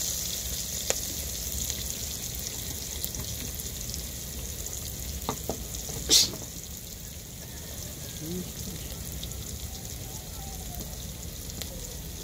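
Native chicken sautéing in a pan with onion and garlic, a steady, close frying hiss throughout with a few faint clinks and one brief sharp knock midway.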